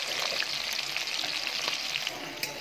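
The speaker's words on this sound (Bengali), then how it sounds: "চিংড়ি মাছটা হালকা ভাজা করে নেবে।" Shrimp rubbed with salt fries lightly in a pan, giving a steady close sizzle with scattered crackles and pops throughout.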